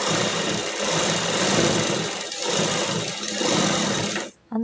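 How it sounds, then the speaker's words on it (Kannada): A sewing machine runs continuously as it stitches a blouse, a steady loud whirring hum close by that slows briefly and then stops near the end. "ಫಸ್ಟ್ ಒಮ್ಮೆ ಈ ಥರ ಲೈನ್ ಹಾಕ್ಕೊಂಡು ಸ್ಟಿಚ್ ಮಾಡ್ಕೊಳ್ಳಿ."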